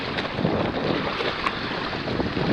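A Hobie Mirage Adventure Island sailing kayak running at about 8 mph under sail, with steady rushing water and wind buffeting the microphone, loud and continuous with no voices.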